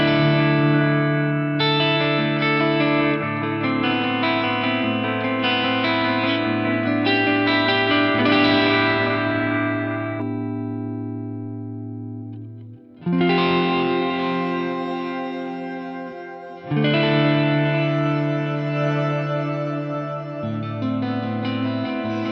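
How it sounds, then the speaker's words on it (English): BOSS DD-8 delay pedal in analog mode with an extra wide stereo setting, on sustained guitar chords that ring out with soft, swaying repeats and long tails, the playing stopping briefly before two more strummed chords bloom and decay. "And now I get this really unique sounding extra wide stereo effect. It almost kind of sounds like the delay is lightly swaying from side to side."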